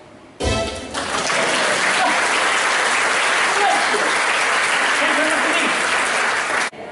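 An audience at a magic show bursts into loud, dense applause that starts abruptly, stays full and even for several seconds, then cuts off sharply.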